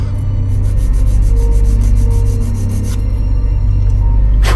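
Continuous rough rubbing and rasping, close and steady throughout, of sandpaper worked back and forth on a wooden model ship kit, with no talk.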